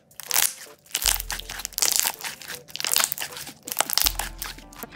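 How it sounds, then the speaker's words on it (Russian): Crunchy slime being squished and pressed by hand, a run of loud, close crackling crunches and squelches in uneven bursts with no talking. "И сейчас мы услышим, как же он хрустит."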